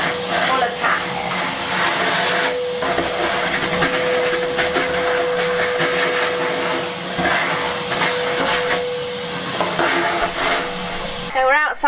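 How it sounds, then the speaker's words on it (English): A vacuum cleaner hoovers a filthy cat bed in a Spanish farmhouse under renovation, giving a loud, steady, continuous whine and roar from close by that runs almost the whole time before it cuts off at the end. "the first thing I'm going to do is give it a good hoover"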